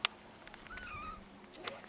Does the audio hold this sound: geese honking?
no